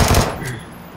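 Gunfire in the video game PUBG, a single loud close burst at the start that quickly fades into a brief decaying echo.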